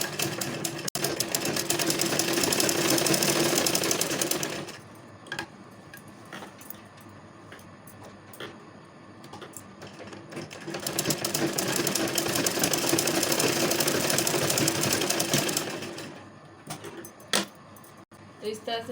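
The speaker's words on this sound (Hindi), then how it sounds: "इस तरह से दोनों कंधा को बराबर मिलाते हुए इसकी सिलाई कर लूँगी।" A sewing machine runs in two long, steady bursts, stitching together the shoulders of a lined kurti, its rapid even whir close by and separated by a quieter pause with light handling noises.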